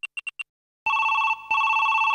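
A telephone rings at close range, four quick electronic chirps followed by two long, loud sustained trills with a short break between them, heard with no talking.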